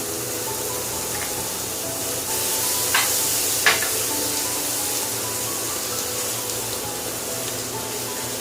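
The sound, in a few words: ginger garlic paste and yogurt frying in pan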